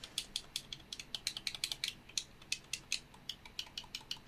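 Rapid, crisp plastic clicks in irregular bursts, close up and fairly quiet, like small buttons being pressed one after another on an Xbox controller.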